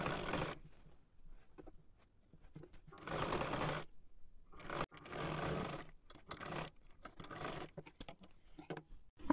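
A sewing machine stitches a kurti sleeve in several bursts, each a rapid mechanical whirr lasting about a second, separated by short quiet pauses, close and moderately loud.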